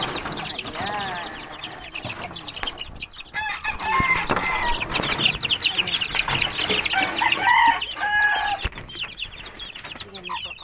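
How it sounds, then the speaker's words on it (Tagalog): Backyard chickens cluck and a rooster crows in a rural Philippine yard, a busy, continuous chorus of hens and chicks, with a human voice talking now and then. "So ngayon, nandito tayo sa mga manok ko."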